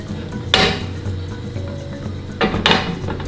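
A frying pan is set down on the stove and three large spoonfuls of cooking oil go in for pad thai, with a sharp metallic knock, quiet scraping, then two more close clinks of spoon against pan.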